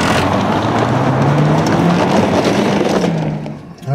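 A 2013 Mazda3's exhaust drones steadily as the car accelerates hard in a 0-60 run, with the engine pitch climbing slowly under wind noise before easing off at the end.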